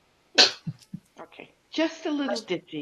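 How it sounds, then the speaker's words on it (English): A single sharp sneeze near the start, loud and close, followed by someone speaking casually in a conversation. "bless you"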